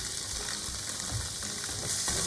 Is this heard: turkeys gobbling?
no